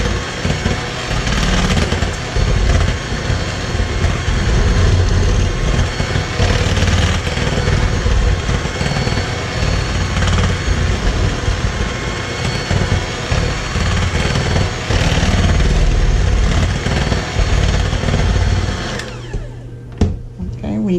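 An electric mixer whirs loudly and continuously through buttermilk pie custard filling with buttermilk, sugar and butter, the motor droning near and steady before cutting off near the end.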